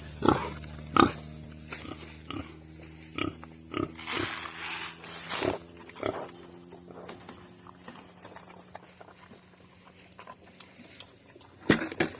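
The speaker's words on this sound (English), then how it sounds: "Georgia is a full-blood Berkshire pig." A full-blood Berkshire pig feeds from a bowl, with short snorts, grunts and scattered knocks and patters recurring irregularly at close range against a steady high hiss, with no one talking.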